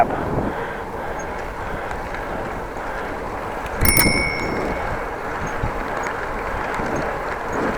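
A single bright ding of a bicycle bell rings out on a Dutch bike lane, close and clear over the steady rush of wind and road noise from a moving bike.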